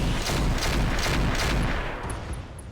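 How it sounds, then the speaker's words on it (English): Rapid autocannon fire from a pike support vehicle in the mech video game RogueTech, a dense run of booming shots close and loud that thins out toward the end, with a few sharp high blips near the finish. "That was good shooting with the autocannon"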